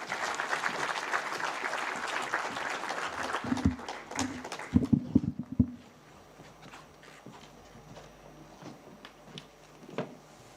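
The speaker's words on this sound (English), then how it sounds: "A round of applause," Audience applause for a keynote speaker at a business event fills the first few seconds, a dense burst of clapping that fades into a quiet room with faint talk and rustling.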